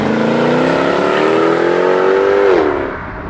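A Mercedes-Benz CLK 63 AMG Black Series V8 revs hard and loud close by, its note climbing steadily for a few seconds before dropping off sharply as the throttle closes.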